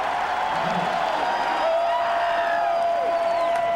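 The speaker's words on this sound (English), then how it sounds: "And the crowd responds to the Tigers defense." A stadium crowd at a 1997 Ole Miss versus LSU college football game roars steadily for the Tigers defense, a broad sustained cheer with scattered whistles and whoops.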